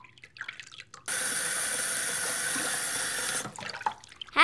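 Water runs steadily from a tap for a few seconds, a loud continuous rush that starts abruptly and stops, with faint clatter before and after.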